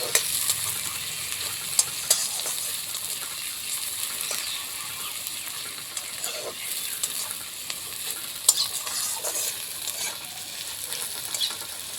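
Onions frying in hot oil until reddish brown, a steady dense sizzle with occasional stirring clicks against the pan, close and continuous without speech.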